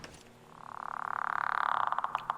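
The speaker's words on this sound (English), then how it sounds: "And now I'm gonna listen to the frog." A single frog lets out one loud, drawn-out croak close by that swells into a rapid pulsing trill, then breaks into a few separate chirps at the end, with nothing else around it.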